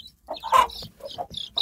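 A crossbred rooster and hen cluck close by in short, clipped bursts, a quick string of separate clucks with brief gaps between them.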